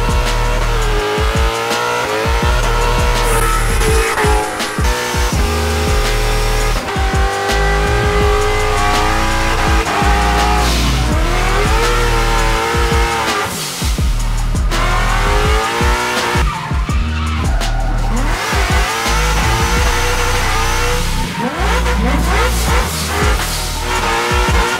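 Ford Mustang RTR drift cars scream through slides, with loud, sustained tire squeal layered over revving engines that rise and fall as the cars accelerate and skid, close and continuous throughout.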